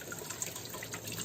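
Running tap water splashes steadily and evenly while a crab is rinsed and cleaned at a home kitchen sink, a continuous close hiss with no voices.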